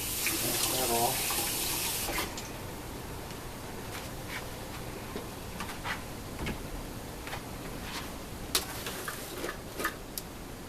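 A tap runs steadily as a cucumber from Lidl is rinsed at a kitchen sink, the water loudest at first then settling into a quieter continuous trickle with occasional clicks and knocks.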